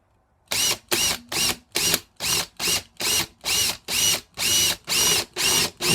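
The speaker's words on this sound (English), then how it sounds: "let's try that again with another drill bit, slightly larger" A power drill whirs in short repeated bursts, about a dozen pulses in a steady rhythm, loud and close with brief pauses between each.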